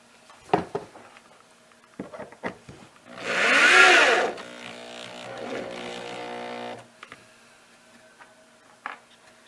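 A power driver whines for a few seconds, sinking a screw into the wood of a homemade tortilla press, with scattered taps and knocks of handling before and after.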